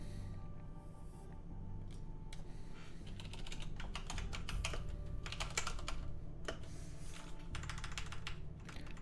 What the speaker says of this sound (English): I got a new keyboard, so I have to put these little O-rings on there to make it quiet.